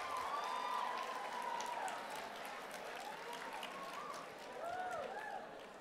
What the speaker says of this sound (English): Your turn to clap if I'm hitting the nail on the head